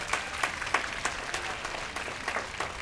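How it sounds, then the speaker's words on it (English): An audience at a horse show claps for a horse's riding demonstration. The applause is moderate and fairly steady, with rhythmic bursts of clapping over a short stretch. "Give her an encouraging round of applause."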